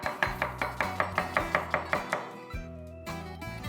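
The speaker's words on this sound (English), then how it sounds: "And now we chop the red onion in julienne." A knife chops red onion into julienne strips on a cutting board, with about a dozen crisp, evenly spaced strokes in a steady quick rhythm, close and clear, over soft background music.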